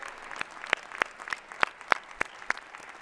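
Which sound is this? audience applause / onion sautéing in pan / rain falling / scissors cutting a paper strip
audience applause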